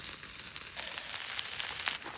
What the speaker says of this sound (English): Everything's starting to heat up and sizzle, and we're cooking lovely.